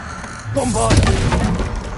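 A Bombarda blast spell in a Hogwarts wizarding video game lands as a booming, crackling explosion with a shattering burst, loud and close, and a voice shouts over it.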